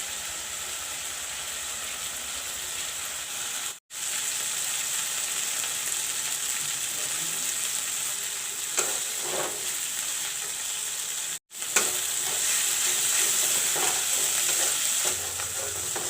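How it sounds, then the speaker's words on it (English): Masala with cumin, black pepper paste and chili powder frying in a pan until brown, a dense steady sizzle with stirring, broken by two brief silent gaps, no talk. "Put in the chili powder. Let the masala turn brown."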